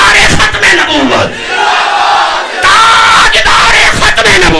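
A large crowd at a religious gathering chants and yells a slogan in loud unison, two forceful bursts of massed voices separated by a brief lull, close and intense.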